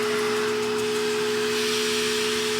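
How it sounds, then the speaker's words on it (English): A vacuum fitted with a pet grooming brush attachment sucks loose dog fur into its container, producing a loud, steady motor drone with a constant whine and no talking. "this attachment connects directly to this vacuum. So as I brush, it's pulling the loose fur straight into the vacuum container."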